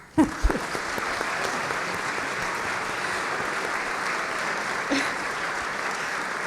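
Applause from diners at the Foreign Policy Research Institute annual dinner, honoring Anne Applebaum with the Benjamin Franklin Award. It starts with a few sharp claps, then becomes a sustained, even roar of many hands in a large room.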